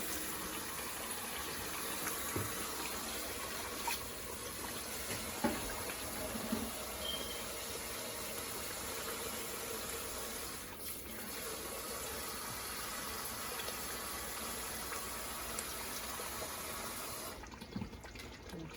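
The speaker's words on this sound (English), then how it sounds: "So I'm gonna add make about 3 cups of water." Water pours steadily into a pot while jollof rice is being cooked, a continuous soft splashing and trickling that runs unbroken and fairly quiet throughout, with no talk.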